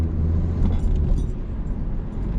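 Car engine during a driving lesson, heard from inside as a low steady rumble that swells gently as the driver accelerates, with no talk over it.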